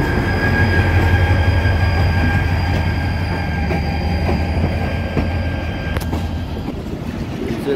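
Bahauddin Zakariya Express passenger train rolling along the tracks in Pakistan, a loud steady rumble with rattling carriages and metallic wheel squeal, plus a couple of sharp clanks near the end.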